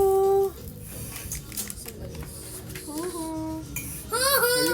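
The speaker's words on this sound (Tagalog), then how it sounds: "Halu-haluin natin." A spoon stirs a frothy cappuccino in a cup, giving light clinks and scraping, partly under tonal background music and brief voices.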